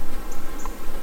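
Honey bees buzz inside an opened hive, a dense, steady drone with no breaks that stays close and loud throughout.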